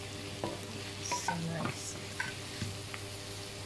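Onion and tomato frying in a pan for spicy chicken curry, a busy sizzle with repeated stirring scrapes and utensil knocks, and a voice speaking briefly over it.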